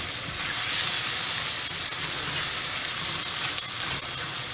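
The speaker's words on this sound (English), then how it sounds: "You don't want your mushrooms burnt, you just want them a nice golden brown" Mushrooms frying in a hot pan for beef tips in red wine sauce, giving a steady, close, fairly loud sizzle and hiss that holds without a break, with no talking.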